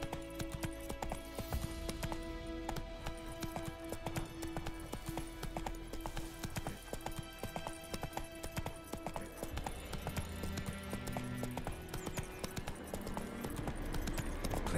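A horse gallops in The Witcher 3, its hooves a rapid, steady clip-clop that runs the whole time under a dense layer of game music and ambience, loud and close throughout.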